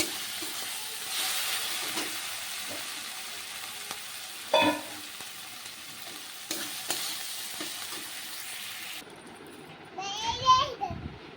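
Soybean curry sizzles and fries in a home kitchen pan, with a steady sizzle that breaks off near the end. Stirring clatters sound briefly, and a child and an adult talk over the cooking.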